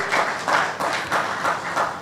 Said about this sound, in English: A round of applause for this keynote speaker.